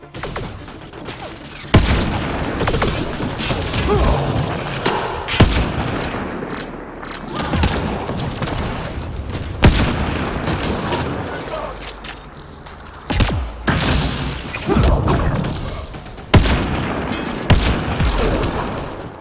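Repeated bursts of gunfire and booming shots from combat in the video game Mass Effect Andromeda, loud and dense in clustered volleys across the stretch, with a voice talking underneath.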